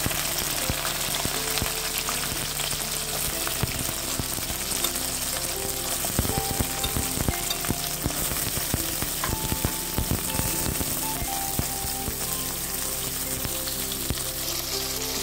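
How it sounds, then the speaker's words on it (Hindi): Mixed vegetables sautéing in very hot oil in a kadai for veg chow mein: a loud, continuous crackling sizzle with scattered pops and stirring clatter, steady throughout with no voices. "सारी वेजिटेबल्स को हमने ठीक से सॉटे कर लेना।"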